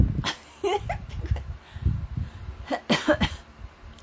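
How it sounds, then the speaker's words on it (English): Several harsh coughs in short bursts, close and fairly loud, separated by breathing and brief pauses. "still coughing"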